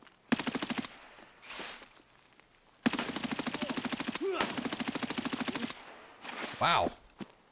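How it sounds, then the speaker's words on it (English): Bursts of rapid automatic gunfire from Escape from Tarkov come in two long strings of close, loud shots, with quieter shots and a metallic ring between and after them. "You took a lot of shots."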